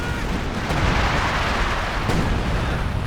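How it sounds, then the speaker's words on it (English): Heavy artillery barrages pound down in Company of Heroes 2 during a 4v4 match, a dense continuous rumble of overlapping blasts and booms at steady loudness throughout. "The artillery coming down on the double Raketens"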